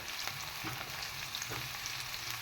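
Onions and green chillies fry in hot oil for egg fried rice, giving a faint, steady sizzle and crackle with occasional soft stirring taps, heard alone and without talk.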